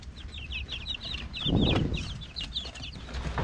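Several chickens in a small, cramped backyard coop cluck in short repeated bursts throughout, with a louder rustling flurry midway, close and moderately loud.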